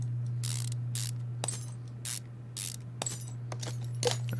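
Car parts and a nut come off in the video game Car Mechanic Simulator 2015, heard as a series of quick ratcheting and metallic clicks and whirs over a constant low hum.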